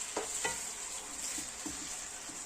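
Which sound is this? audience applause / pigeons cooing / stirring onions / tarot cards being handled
stirring onions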